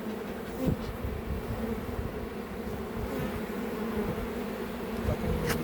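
Honeybees buzz at an open hive in an apiary, a dense, steady drone of many wings that holds throughout, close and fairly loud, with faint knocks from handling the hive.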